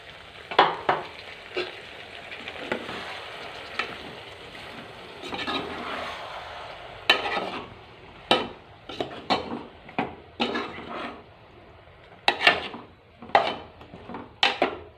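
Tomato puree frying with drumstick pieces in a pan, a steady sizzle punctuated by repeated sharp scrapes and clacks of a spoon stirring against the metal, close and fairly loud with no talking.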